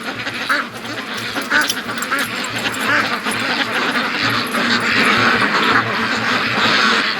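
A flock of Muscovy ducks at a creek on a small free-range farm, quacking and calling steadily in a dense, continuous outdoor chorus with no talk.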